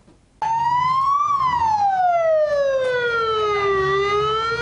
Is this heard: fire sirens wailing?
yes